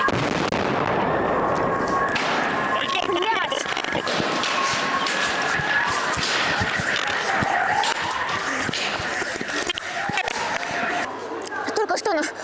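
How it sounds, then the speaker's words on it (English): A HIMARS rocket strike hits a building in Donetsk, heavy booming blasts and sharp crackling bursts rolling through a noisy scene, with voices talking underneath. "It's going to get destroyed whenever that Himars rocket comes in."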